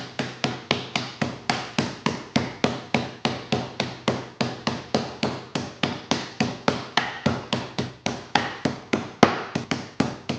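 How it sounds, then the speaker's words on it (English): Chicken pounded flat under cling film with a kitchen hammer, a fast, regular run of dozens of close, sharp thwacks, each with a short dull tail, continuing steadily without talk. "Then I'm just going to hammer the hell out of it."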